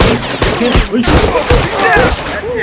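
Rapid bursts of gunfire in The Last of Us online multiplayer on PS4 crack out loud and close in quick succession, with shouted voices mixed over the shots.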